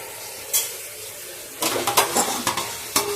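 Boiled prawns being stirred and fried in a pan for a Guntur-style prawn fry, a steady sizzle broken by a run of quick scraping stirs and clinks of the utensil against the pan.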